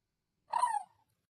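A hunter imitates a turkey's contentment purr on a mouth call, producing a single short rolling purr that is clear and isolated against silence.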